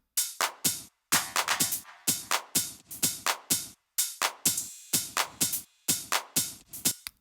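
Electronic drum section with punchy toms and sharp claps, the main clap leading, hitting in a steady, driving pattern of loud, close percussive strikes with brief gaps between bars.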